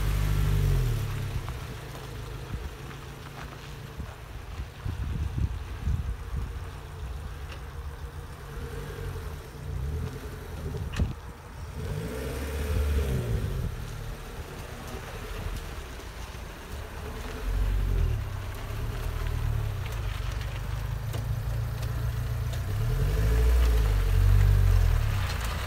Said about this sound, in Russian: Ну все, едет. Движок от Хонды.